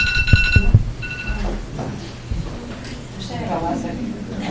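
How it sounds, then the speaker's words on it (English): An electronic timer alarm at a public information session on a jail and public safety center gives a couple of short bursts of loud, high, repeated beeping, followed by room murmur and people speaking. "Annoying timer, sorry, I'll try and turn it down."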